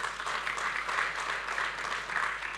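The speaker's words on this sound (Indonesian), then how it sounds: "Yang setuju beri tepuk tangan" A church congregation gives a sustained, even patter of applause that holds at a steady level throughout, heard from a moderate distance with a low hum underneath.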